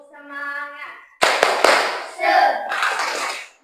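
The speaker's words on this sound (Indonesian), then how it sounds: "Tepuk semangat dulu biar semangat." A classroom group performs a rhythmic Indonesian 'tepuk semangat' spirit clap, with a few sharp, loud hand claps after a voice, then chanting or cheering voices over the clapping.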